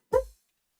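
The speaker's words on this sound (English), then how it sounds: "My dog senses an enemy approaching" A single short dog bark sounds close and clear indoors, then cuts off into silence.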